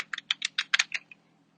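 Quick close keystrokes on a computer keyboard as an email address is entered into MYOB accounting software, about eight crisp clicks in a fast burst, then silence.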